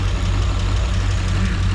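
A carbureted engine in a 1933 hot rod, fitted with a mechanical choke, idling loud and close with a steady, throbbing low rumble and no break.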